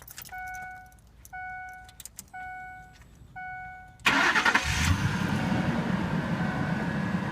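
A 2003 Ford Expedition with a newly replaced fuel pump relay gets four short ignition chimes, then the engine cranks and catches, settling into a steady, close idle.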